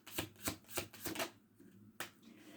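Tarot cards are shuffled close up, a run of soft rhythmic riffling slaps about every quarter second, then a pause and one final sharp card sound.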